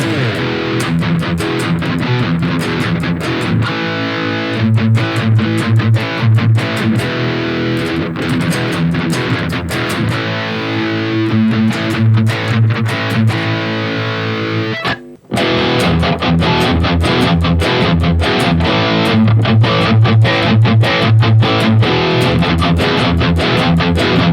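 A distorted electric guitar through a Fractal FM9 modeler chugs through a steady rhythm riff, dense and loud, with a brief cut near the middle before the chugging resumes.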